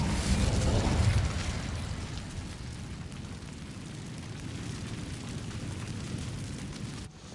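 Incendio fire spell cast in Hogwarts Legacy gives a loud whooshing burst of flame, then a steady roaring crackle that holds for several seconds before cutting off abruptly.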